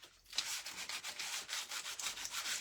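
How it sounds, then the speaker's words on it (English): A dry leaf rubbed steadily against another leaf coated in hot glue, a soft continuous scratchy rasp in quick strokes, close and quiet, with no voices. "I'm using one leaf to rub down the other leaf that's covered in hot glue"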